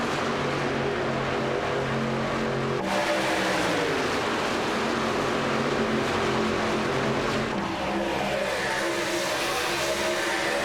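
A pack of racing trucks accelerating together on a green-flag restart at Michigan, a dense, loud engine roar swelling and holding steady throughout.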